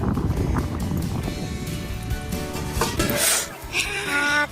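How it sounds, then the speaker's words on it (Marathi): Metal lid lifted off a cooking pot in an open-air village kitchen in a field, a brief clanking scrape with metallic ringing over outdoor wind and background noise. "काढा झाकण."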